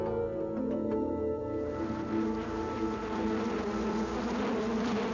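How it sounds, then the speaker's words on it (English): Killer bees swarming with a dense, continuous buzzing drone that stays loud and steady throughout, close by with no voices. "Killer bees are here to stay,"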